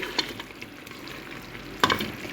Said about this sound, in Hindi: अब मैं गरम मसाला हाफ़ टेबल स्पून इसमें डाल के इसकी भुनाई करूँगी।